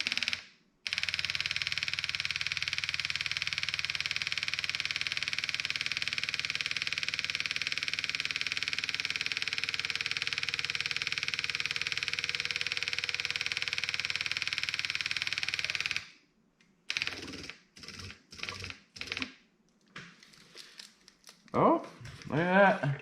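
An M18-powered electric siphon pump for filling fluids runs with a steady motor hum for about fifteen seconds, then cuts off, followed by short clicks and a voice.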